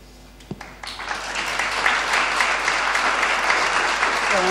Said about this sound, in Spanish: Es raro una clase con aplausos